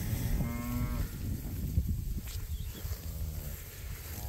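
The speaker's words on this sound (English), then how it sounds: "There's our bull, we call him Tank." A bull in a cow herd lets out deep, drawn-out moos, one near the start and another about three seconds in, close and loud over an outdoor background.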